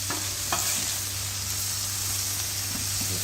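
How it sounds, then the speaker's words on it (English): Chicken fajitas sizzle steadily on a Blackstone griddle while being mixed, a dense hiss broken by soft scraping strokes of a spatula, close and continuous. "And we're going to mix that up just a little bit."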